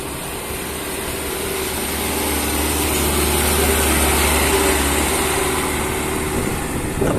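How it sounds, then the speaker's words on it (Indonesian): A material truck passes near a housing development under construction in Malang, its engine a steady low rumble that swells slightly and holds, with no talk over it. "lagi rame, ada truk lewat."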